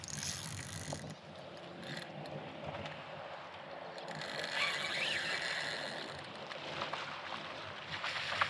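Fishing reel drag clicking steadily as line pays out to a barramundi on a small tinny in the Northern Territory, a continuous ratcheting buzz over boat and water noise, fairly close with no talk.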